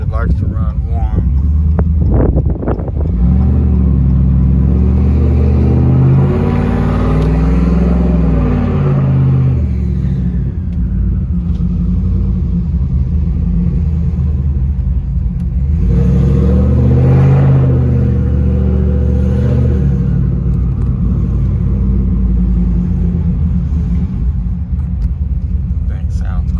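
Forged, cammed and boosted car engine idling rough and lumpy just after a cold start, a loud deep rumble heard from inside the cabin with rising revs, and someone talking over it.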